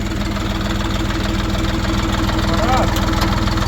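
A Kentavr 244S tractor engine idles close by, its low rumble even and continuous throughout with faint rattling on top.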